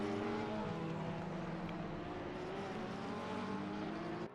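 Race cars roar side by side down the front stretch at Indianapolis in a sim racing game, a steady, loud engine drone holding throughout.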